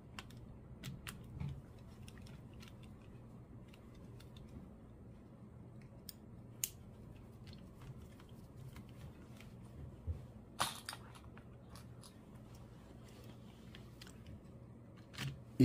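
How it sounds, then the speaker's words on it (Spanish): Screws are driven back into a Nintendo 64 console shell, heard as scattered small clicks and ticks of the screwdriver against plastic over a low, quiet background hum, with no talking. "Vamos a poner todos los tornillos de regreso."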